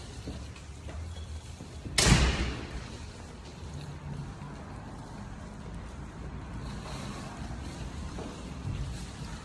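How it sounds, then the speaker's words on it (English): A door slams shut once with a heavy thud early on, followed by a long stretch of quiet indoor background noise. "Lock the door."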